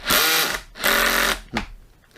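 A DeWalt Atomic DCD709 combi drill running in second speed whirs loudly and close in two sustained bursts, then gives one brief final blip before falling quiet.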